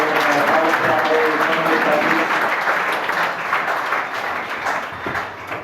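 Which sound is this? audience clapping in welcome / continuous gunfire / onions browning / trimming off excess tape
audience clapping in welcome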